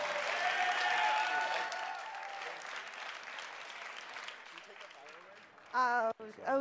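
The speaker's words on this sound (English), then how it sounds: "Big round of applause to the Blunt Talks guys as well." Audience applause at the Blunt Talks live show at the Weedmaps Museum of Weed, loud at first and then tapering off. A voice cuts in briefly near the end.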